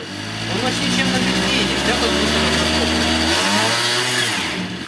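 A small engine runs on gas produced with a moonshine still, idling steadily and loudly with a fluctuating drone, while someone talks over it.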